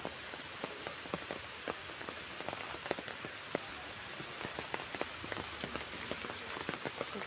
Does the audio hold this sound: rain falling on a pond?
yes